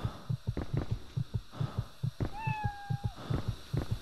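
A single drawn-out cat meow from the Echo Night: Beyond video game sounds over a steady, throbbing heartbeat-like pulse that repeats through the whole stretch, with no talking.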